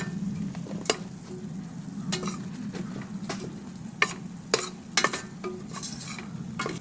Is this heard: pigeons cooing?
no